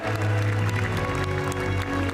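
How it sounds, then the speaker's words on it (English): Sustained applause from a large crowd at an esports racing world final in Amsterdam, loud and steady throughout, with music or a tonal hum running underneath. "a rapturous applause here in Amsterdam"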